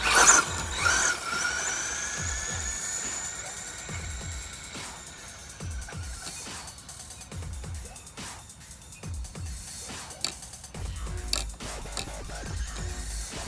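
An RC car built from a Tamiya Blitzer and a Traxxas 2wd runs at full throttle, giving a high, thin motor whine that fades as it drives off. Scattered ticks and scuffs follow from the tires on the ground.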